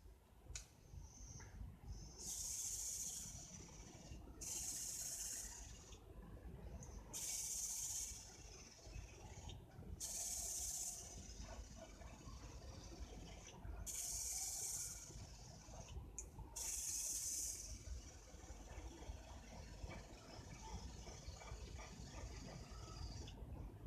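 Airbrush spraying fine coats of paint over a masked 1/48 scale Academy Messerschmitt Bf 109G-6 model during camouflage painting; six steady hissing bursts of a few seconds each, separated by short pauses, over constant low background noise.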